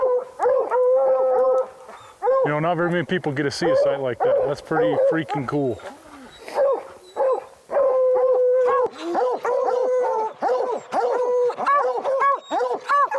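A pack of hunting dogs on a mountain lion chase in the Rocky Mountains howl and bay in long wavering calls, close and loud, while someone talks over them.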